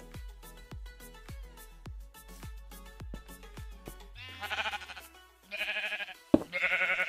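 Several sheep bleat in Minecraft, their blocky game calls coming in short overlapping bursts over a steady rhythm of soft thumping footsteps or clicks, fairly close and clear with no talk.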